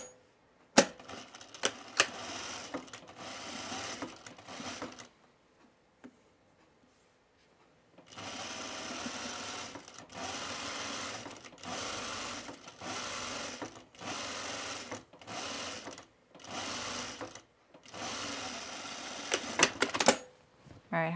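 A sewing machine stitches a French seam in linen trousers, running in several separate bursts of fast clattering needle action with quiet gaps, and sharp clicks and handling noises around the runs.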